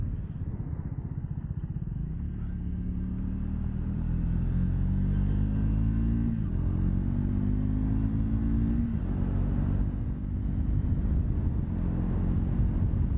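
A 2024 Triumph Speed 400 motorcycle cruises down the road at a relaxed pace. Its single-cylinder engine makes a steady, deep rumble with a couple of gear changes in the pitch, heard up close with wind underneath.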